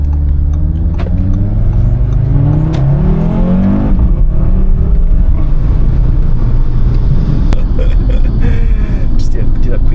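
A high-mileage Audi RS3 in manual mode makes a quick full-throttle pull, its engine note loud and close, rising and swelling over about ten seconds with a brief shift-like break midway.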